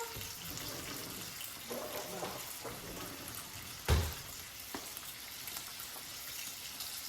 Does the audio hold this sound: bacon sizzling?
yes